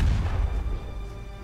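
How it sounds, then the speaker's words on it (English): Warship's 5-inch magazine explodes in the naval combat game Ultimate Admiral Dreadnoughts, a deep booming blast that rolls and fades over a second and a half. "Explosion of the 5-inch magazines."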